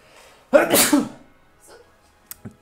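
A single loud sneeze bursts out after a quiet moment during a live Super Smash Bros Ultimate game session, followed by faint small noises.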